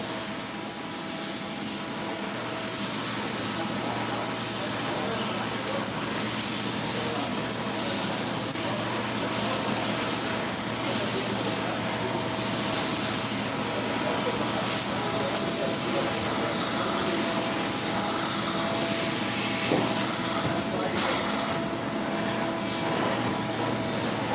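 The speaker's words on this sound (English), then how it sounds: "we're doing the back now just to really cover our base, to make sure we get as much of our soap out that we didn't rinse out on the wash floor" Water spray rinses leftover soap out of the back of a crazy-shaped, urine-soaked rug, a steady loud hiss running without a break throughout, with no talk over it.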